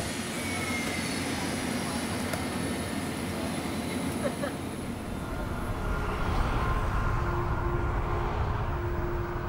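Cabin of a Japan Airlines jet airliner in flight, with a steady, loud broadband engine and air roar throughout, a low hum, and a voice speaking over it.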